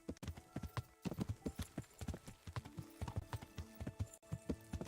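Horse hooves clop in an uneven walking rhythm in Kingdom Come: Deliverance, close and distinct, with occasional tonal sounds in the background.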